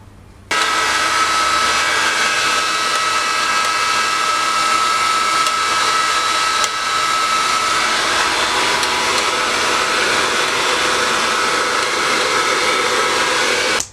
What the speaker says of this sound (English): I'm going to just blow dry my hair